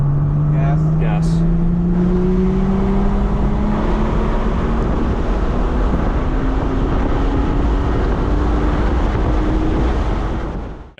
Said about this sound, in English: You can hear a lot of tire screeching